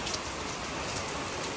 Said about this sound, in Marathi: मस्त जोरात पाऊस येतोय.